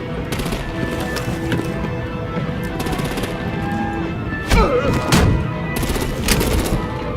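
Gunfire in the Batman Telltale Series video game: a dense, steady rattle of shots, with a couple of louder sharp bursts near the middle over continuous action noise.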